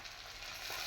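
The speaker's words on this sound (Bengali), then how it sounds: "মাছের তেল ভাজছি।" Fish frying in hot oil in a home kitchen gives a faint, steady, close sizzle with a continuous crackling hiss and no talking.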